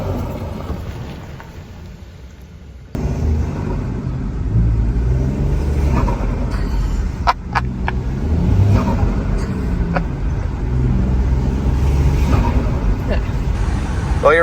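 A Ford Bronco Sport fitted with a K&N cold air intake drives. Its turbocharged engine gives a loud, steady rumble and whoosh that swells as it accelerates, heard from close by.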